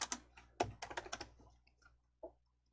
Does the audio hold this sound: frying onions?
no